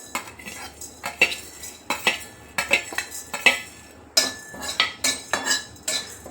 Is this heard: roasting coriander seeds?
yes